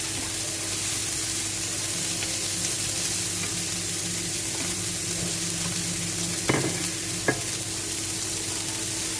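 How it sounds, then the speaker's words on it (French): Browned onions and a vegetable mix fry in a pan with a constant soft sizzle and a low background hum. Two brief utensil knocks or scrapes near the end break the steady frying sound, and no one talks. "je rajoute mon mélange de légumes. Et je continue à remuer."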